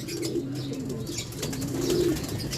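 Low, rolling pigeon coos repeat continuously, close and fairly loud, with faint higher chirps in the background, near newly hatched chicks one to two days old.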